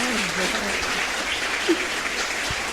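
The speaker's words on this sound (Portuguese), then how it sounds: "Salve de palmas aí, gente" A crowd at a spiritual lecture applauds a couple, with brisk, continuous clapping and faint voices murmuring underneath.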